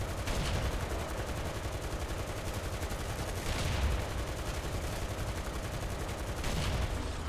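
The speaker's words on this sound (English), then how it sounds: "That was a main cannon hit." Heavy, continuous gunfire-like rumble with booming impacts, a dense battle din from the game War Thunder, steady throughout with a few stronger blasts including a tank main cannon hit.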